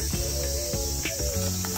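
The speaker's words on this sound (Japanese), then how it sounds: "ハチかアブのどっちかがいる。" A bee or horsefly buzzes near hikers on a forested summer mountain trail on Mount Ikoma in Japan, a continuous insect drone with faint rustles over dense background noise and no speech.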